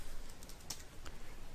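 Keys tap on a computer keyboard in a few light, scattered clicks, faint under a steady background hiss.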